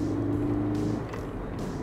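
An MG Maestro with a 2-litre EFI S-series engine drives along, its steady low engine drone and road noise heard from inside the cabin, moderately loud and with no talking.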